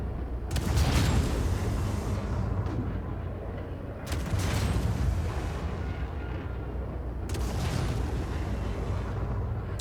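Size 10 torpedoes strike a ship in a space combat video game, producing three heavy, rumbling booms a few seconds apart over a continuous low mechanical roar.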